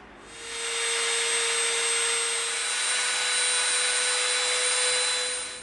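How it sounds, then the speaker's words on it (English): A Dremel rotary tool buzzes with a steady high-pitched whine while cleaning up the edges of EVA foam, running continuously and close for several seconds after a brief quiet start. "where you might have had a little bit of a piece left, you just clean it up with your Dremel"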